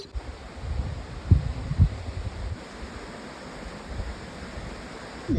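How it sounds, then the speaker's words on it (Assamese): A waterfall stream in the East Khasi Hills gives a soft, continuous murmur of flowing water, a steady hiss with some wind buffeting the microphone and a few low thumps, faint and unbroken by talk. "এয়া নিজৰাটোৰ কুলু শব্দ"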